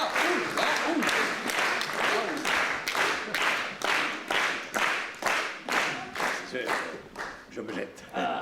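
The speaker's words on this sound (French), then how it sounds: "Et pour l'encourager, applaudissons-le." A theatre audience claps in unison, strong rhythmic beats at a steady pace that slowly soften and loosen toward the end, with voices calling out over it.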